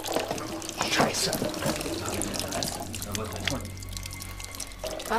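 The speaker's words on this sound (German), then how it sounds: "Wasser." Water runs steadily from a tap with a continuous splashing hiss, as someone speaks over it.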